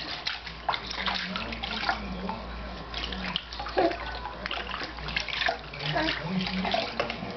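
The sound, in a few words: water rinsing a child's hair during bath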